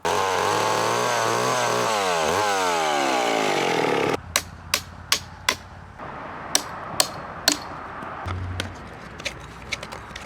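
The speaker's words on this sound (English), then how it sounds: "when you take the chainsaw and you cut into the log" A chainsaw roars loudly for several seconds as it bites into wood, its engine pitch dipping, then cuts off, followed by a series of sharp knocks and clunks.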